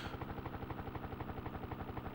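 Helicopter rotor in the Desert Strike: Return to the Gulf video game, a steady rapid chopping pulse with engine drone, continuous and moderately quiet throughout.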